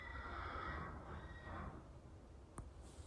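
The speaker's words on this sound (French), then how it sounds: "Mon cheval m'appelle." A horse whinnies to its owner in a stable yard, a rough, fairly faint call with shaky high overtones fading over a couple of seconds, followed by a short sharp click.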